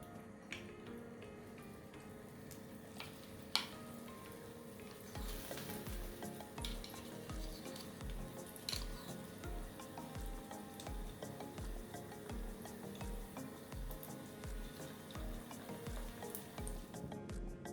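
Chicken and shrimp kekian fritters fry in hot oil, a steady close sizzle with occasional stirring and scraping bursts and a regular low tapping running under the continuous crackle.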